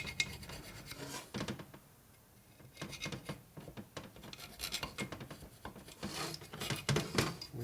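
Gasket scraper working old sealer off a transmission case for a 1965 Harley panhead 4-speed, producing repeated soft rasping scrape strokes in irregular bursts with brief pauses, close and quiet.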